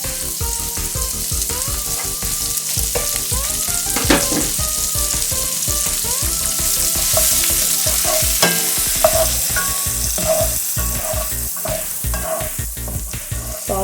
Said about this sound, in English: saute these for about 2 to 3 minutes